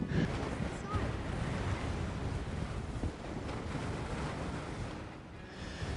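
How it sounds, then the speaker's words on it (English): Strong wind at Cape York, Australia roars and buffets the microphone continuously, a dense rushing noise that barely lets up. "And it's so windy."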